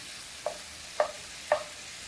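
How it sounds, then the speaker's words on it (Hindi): Green chilies and ginger garlic paste are stirred in a hot pan, with three soft spoon scrapes at an even pace over a steady faint sizzle. "इस तरह से हम सभी चीज़ों को अच्छी तरह मिक्स कर लेंगे।"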